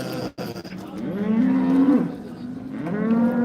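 A cow lows at a livestock market in Kırşehir, two long drawn-out moos close by, the first rising and holding, the second starting after a short pause, with faint market noise behind.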